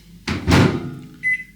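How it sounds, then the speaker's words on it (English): A microwave oven door opening in a home kitchen while cheese sauce is being cooked: two quick, close clunks of the latch and door, followed by a short bright beep, with no talking. "Microwave open."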